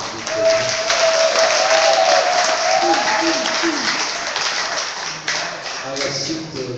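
Audience applause rises at an anniversary gathering for Prophétesse Marie Lumière, a broad crowd clatter with voices and a tonal sound running through it.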